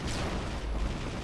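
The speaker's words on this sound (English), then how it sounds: "Why not make these drones explode in one hit?" A drone explodes in the video game Hunt Down The Freeman, a dense, rumbling blast that fills the whole short moment with loud broadband noise and a low boom.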